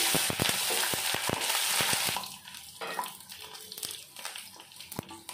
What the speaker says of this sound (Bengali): দিয়ে দেবো কালো জিরে, দিয়ে দেবো রসুন